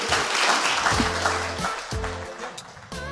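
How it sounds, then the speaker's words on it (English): An audience applauds at an open office hours event for founders, a dense steady patter of clapping with some tonal sounds mixed in. "Let's give her a big round of applause."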